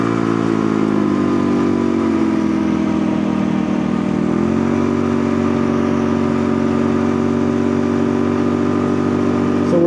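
A street mini bike with a CVT climbs a hill at about 50, its engine droning steadily and close, the pitch sagging under load before recovering and holding.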